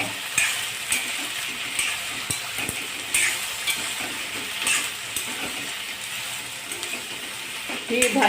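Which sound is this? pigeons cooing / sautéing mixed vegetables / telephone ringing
sautéing mixed vegetables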